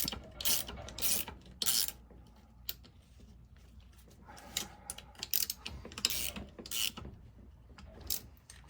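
A ratchet wrench clicks in short bursts while tightening bolts on the kingpin of a Case IH 275 compact tractor, close up with metallic rasping between strokes.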